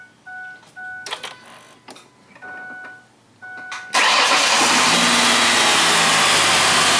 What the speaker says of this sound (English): We'll start the engine one more time.